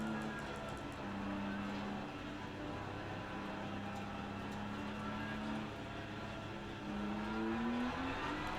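An 888 BMW race car in a racing video game drones at a fairly quiet, sustained engine note that shifts pitch through a few gear changes, with faint talking underneath.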